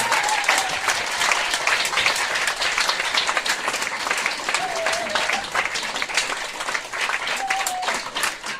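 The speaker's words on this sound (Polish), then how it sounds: "Wielkie brawa" Applause from a concert audience at a Christmas carol event, sustained dense clapping of a crowd lasting several seconds, with faint voices beneath.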